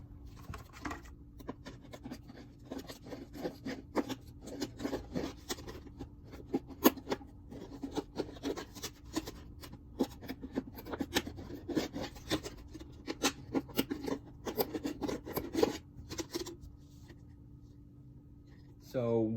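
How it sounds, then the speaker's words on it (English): Scissors cut feeding holes in a homemade bird feeder, giving close, irregular snips and scraping rasps of blade on the container for most of the stretch, with no voices. "use our scissors again to open up each hole about the size of a penny"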